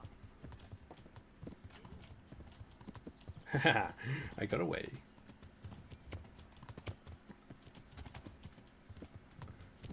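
Rhythmic hoofbeats of a galloping horse in Kingdom Come: Deliverance, rising briefly louder midway, under a voice talking and laughing over steady background noise.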